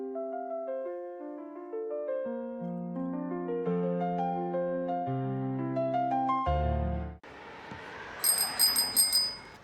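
A bicycle bell rings several times in quick bursts near the end, bright and close, following a stretch of melodic tones with no talking.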